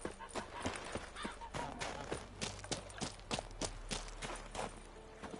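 Hooves clip-clop in a steady walking rhythm from a horse in The Witcher 3, a series of sharp, close thuds at moderate volume over a low background.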